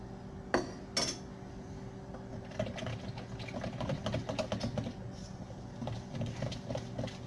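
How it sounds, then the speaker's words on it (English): A utensil clinks twice against a bowl, then steady scraping and tapping follow as half a cup of flour is stirred into a mixture for cinnamon rolls, close and fairly quiet. "to this mixture, you can stir in half a cup of flour"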